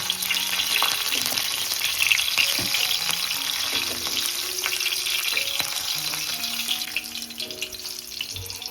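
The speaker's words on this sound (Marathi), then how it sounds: "एक मिरची आणि कडीपत्ता थोडंसं परतून घ्यायचं आपल्याला" Green chili, curry leaves and garlic sauté in a hot pan with a steady, close sizzle, punctuated by occasional stirring scrapes and light clinks.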